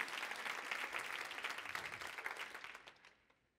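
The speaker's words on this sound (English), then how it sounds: "Can I get a round of applause for my kids who made it to the waterfall?" An audience bursts into applause at a talk, the dense clapping holding steady and then thinning out and fading away toward the end.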